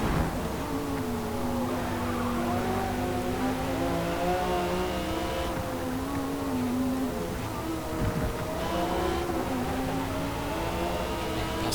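Racing engines in Forza Motorsport while chasing a yellow Ferrari: a steady, loud engine drone throughout, its pitch rising and falling with gear changes and throttle, with no pauses.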